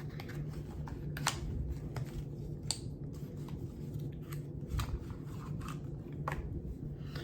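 A deck of affirmation cards is shuffled by hand, giving quick papery riffles and sharp flicks in irregular bursts, close and fairly quiet, with no talking.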